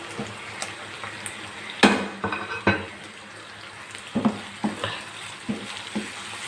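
Chicken pieces and ground spices frying in a pan for chicken handi, stirred with a utensil that scrapes and clanks against the metal in irregular strokes over a constant close sizzle, no voices.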